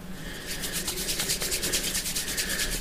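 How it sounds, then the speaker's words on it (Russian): Polymer clay, a firm classic type, being kneaded and rolled into a thin log by hand, giving a steady soft rubbing and rustling texture close to the microphone with no talk. "разминаю и скатываю колбаску"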